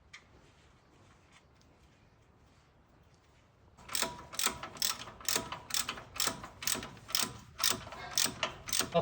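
A car jack is worked by hand during wheel and suspension repair on a car, giving a near, loud string of about ten evenly spaced ratcheting clicks that start partway through after a quiet lead-in.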